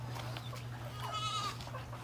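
Goats bleat on a backyard goat farm in the countryside during the hot dry season, a wavering cry standing out midway over steady farmyard background hum, with other faint animal calls around it.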